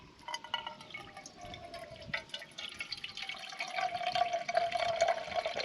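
Water trickles and drips through a camping water filter outdoors on a coast-to-coast walk, a steady faint patter with a thin high whine running throughout, no voices.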